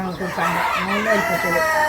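Native country chickens kept by a housewife on a home poultry farm cluck and crow in a steady, fairly loud stream of overlapping calls close by, filling the short stretch without a break.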